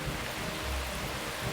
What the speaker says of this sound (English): a single day's downpour can splash down more than 800